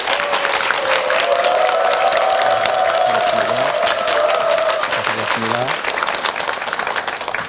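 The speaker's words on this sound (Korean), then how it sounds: "큰 박수로 맞아주시기 바랍니다" An audience applauds to welcome a lecturer at a televised health talk, with steady clapping under a host's voice that carries on over it.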